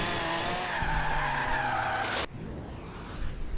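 Loud, sustained tire screech from a car drifting in the Forza Horizon 3 racing game, a continuous squeal that cuts off abruptly, leaving a lower engine rumble.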